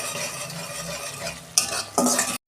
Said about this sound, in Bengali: একটু কষাচ্ছি আদা রসুন দেওয়া আছে তো